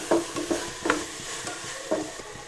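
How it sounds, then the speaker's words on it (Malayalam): Beef being stirred in a pressure cooker for a toddy-shop-style curry, a spoon scraping and turning the meat in short repeated strokes with a faint sizzle underneath. "ഇനി നന്നായിട്ട് ബീഫ് ഇതുപോലെ ഒന്ന് ഇളക്കി കുക്കറിൽ ഇതുപോലെ മിക്സ് ചെയ്തെടുക്കണം"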